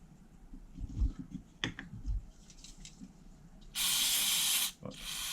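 Aerosol cleaning spray from a can hissing onto parts of a disassembled HPI Savage RC nitro engine, one loud sustained burst of about a second followed by a short second burst, after quieter clicks and handling noises.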